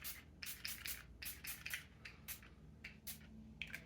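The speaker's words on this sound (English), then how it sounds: "I'm gonna add one more spray of the setting spray." Makeup setting spray misted from a pump bottle in a series of short, close hissing bursts, several quick pumps with brief pauses between them, nobody speaking.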